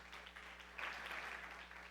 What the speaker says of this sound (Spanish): Un aplauso al Señor y pongámonos de pie.